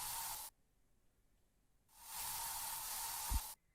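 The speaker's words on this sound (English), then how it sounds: "we're going to kind of spray this area here" Two bursts of a hissing spray over an area of plants outdoors, a short one at the start and a longer one after a pause, both fairly close and steady.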